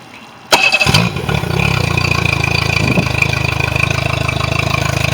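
Mercury 60 outboard motor with a freshly serviced lower unit, cranking over and catching abruptly, then settling into a loud, steady close-up idle with an even pulsing beat.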